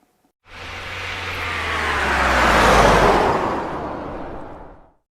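A car drives past, swelling from a distance to a loud broadband whoosh at its closest, then fading away over about four seconds, with no voices.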